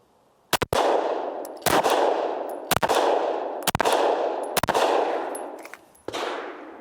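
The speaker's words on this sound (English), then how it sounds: "I got 5 rounds. I'll keep shooting until it falls or until I run out of ammo." Pistol shots of 90 grain bullets fired at IIIa body armor, six loud sharp cracks spaced about a second apart, each followed by a ringing metallic decay, with no talk.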